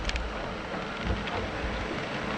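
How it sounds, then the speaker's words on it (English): Steady rain falls outside a sailboat with a dense, hissing wash, mixed with low rumbling wind gusts throughout. "And we have now moved on to rain"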